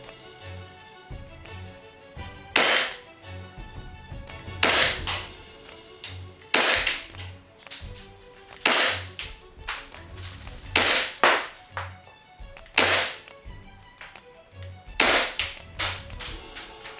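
Airsoft pistol fitted with a SilencerCo Osprey 45K suppressor fired through a chronograph, about nine sharp snapping shots spaced a second or two apart, fairly close and loud with no talking.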